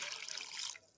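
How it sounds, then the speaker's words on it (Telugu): Water is poured over turmeric-coated crabs being washed for a village-style fry, a soft splashing stream that cuts off near the end. "కొంచెం నీళ్లు పోసి"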